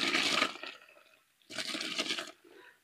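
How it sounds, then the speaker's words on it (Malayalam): Six kilos of Arabian rice are tipped into a pot of boiling water in two loud, rushing splashy bursts separated by a short pause, close by and with no talking. "നമുക്കിനി അരി ഇട്ട് കൊടുക്കാം."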